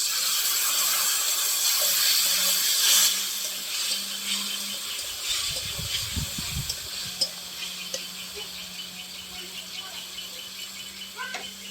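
Water poured into a kadai of spiced potatoes being cooked for a cabbage fish curry: a short splashing pour after a light sizzle and stirring, with a low hum from the kitchen running underneath.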